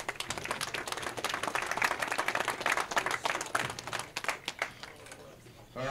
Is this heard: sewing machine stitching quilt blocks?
no